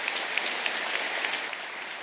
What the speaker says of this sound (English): So a big round of applause for those kids.